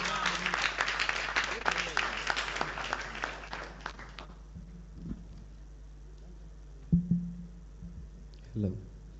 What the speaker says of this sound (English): Please, a round of applause for him.